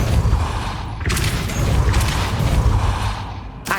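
The Depulso spell is cast in Hogwarts Legacy with a loud, dense whooshing blast that swells and lasts several seconds, mixed with rumbling booms and mechanical clatter.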